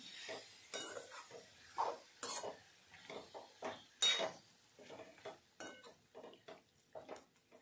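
Vegetable masala for biryani stirred in a pot, a steady series of scraping, clinking spoon strokes against metal with a soft sizzle underneath, close and fairly quiet, no voices.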